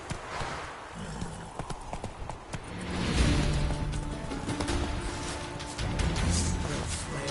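Horse hooves clip-clop at a steady trotting rhythm in The Witcher 3, the clatter building louder partway through over a low game ambience, with a brief voice nearby.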